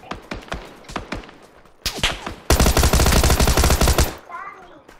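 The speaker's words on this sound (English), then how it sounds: "Taking fire from the right." Gunfire in PUBG: Battlegrounds ranked Taego match: scattered nearby shots and thuds, then a loud sustained burst of rapid automatic fire for nearly two seconds before it cuts off.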